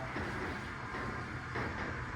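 Elevator motor running in a large elevator with brass doors at The Florida Mall, a steady low mechanical hum and rumble that holds evenly throughout with no talking.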